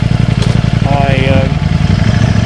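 A Ducati Streetfighter V4S with an aftermarket exhaust idling with a deep, throbbing exhaust rumble, loud and close, steady pulsing throughout with a brief tonal whine partway.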